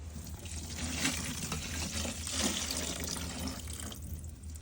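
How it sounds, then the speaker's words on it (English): Liquid poured steadily onto animal grain on a family farm, a continuous splashing, trickling wash heard close with slight swells in intensity. "So I pour it. Pour it on the grain."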